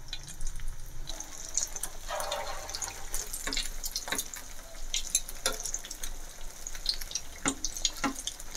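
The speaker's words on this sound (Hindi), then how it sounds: "इस तरह से आप सारी ही इसके अंदर जितनी आसानी से आ सकें वो इसके अंदर डालकर तल लें" Chicken and vegetable kebabs frying in oil in a pan, a soft steady sizzle with scattered pops and light clinks, faint and close with no talking.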